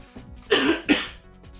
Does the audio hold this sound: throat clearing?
yes